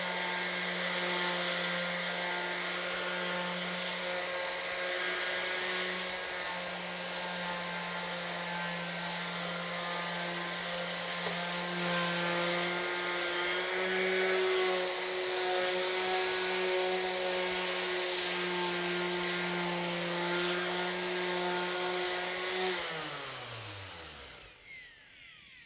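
A handheld power sander runs over wooden boards with a steady, loud whirring drone and a gritty abrasive rasp for more than twenty seconds, then its motor winds down to a stop.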